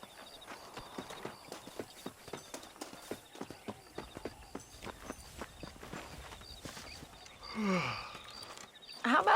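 Rhythmic clip-clop of horse hooves at a walk in the video game Red Dead Redemption, regular beats close by, followed near the end by a horse's whinny and a louder burst.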